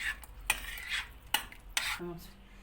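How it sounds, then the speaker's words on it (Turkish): Spoon stirring chopped parsley through a mushroom and potato dish bound for the oven, with scraping clinks against the dish and a few sharp knocks, followed by a brief low hum near the end. "Maydanozu karıştırıyorum böyle."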